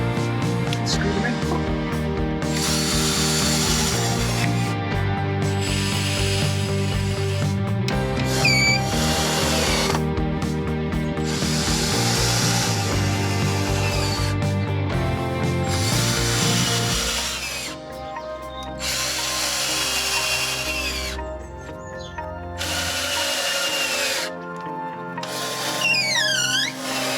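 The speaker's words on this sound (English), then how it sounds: "Gussets. Let's put them, screw them in." A cordless drill drives screws through wooden gussets into a protective wooden shipping box for a Porsche 996 engine, with long, loud whirring runs that rise and stall, pausing briefly between screws.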